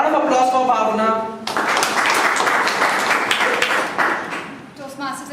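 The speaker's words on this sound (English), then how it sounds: "A round of applause for Bhavna." Toastmasters debate audience bursts into applause after a voice introduces the next speaker, a dense crowd clapping for several seconds before fading as talking resumes.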